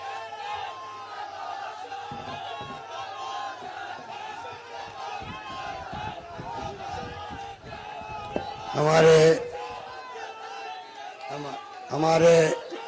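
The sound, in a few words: crowd cheering and clapping to welcome Ashok Gehlot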